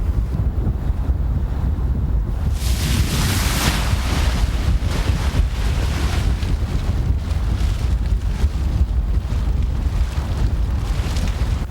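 Steady wind of about 7 to 8 mph roars across the microphone while a paraglider canopy is kited on the ground in rainy Southeast Alaska, a continuous loud rush that swells after a couple of seconds.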